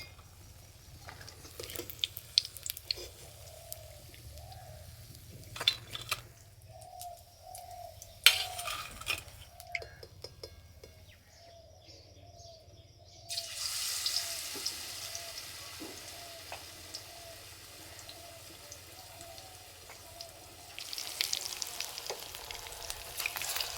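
Spinach rolls fry in oil with a steady low sizzle and bubbling, broken by occasional clatter and stirring. A brighter, louder hiss swells in the middle and again near the end.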